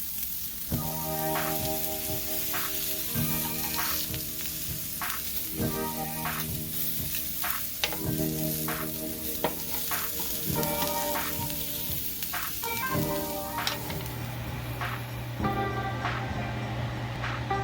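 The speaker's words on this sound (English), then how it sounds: "Work the leeks with a little bit of olive oil and place them on the hot pan" Leeks coated in olive oil sizzle steadily on a hot pan while they char, with repeated sharp clicks and scraping bursts from turning or stirring every second or two, all close and fairly loud with no talking.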